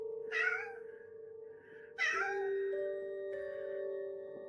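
A house cat meows twice close by, two plaintive cries about two seconds apart, over a steady tonal hum in a quiet room.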